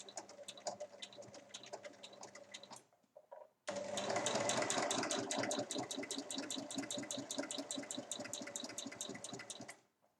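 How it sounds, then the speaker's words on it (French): A sewing machine stitches a long seam at 1 cm on a rectangular fabric basket with two handles, running in steady rapid bursts, briefly pausing near three seconds before a louder continuous run that stops near the end. "Et je vais piquer ici tout du long à 1 cm"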